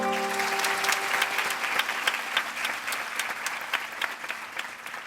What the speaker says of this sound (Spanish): Esos aplausos fueron para Ana Rivera al terminar de presentar una TED Talk